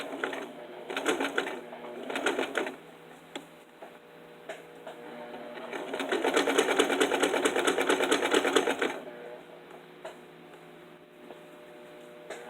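A sewing machine runs a rolled hem on lightweight fabric, with short whirring bursts of rapid stitching, a pause, then a longer steady run before it stops, close and clear with no talk.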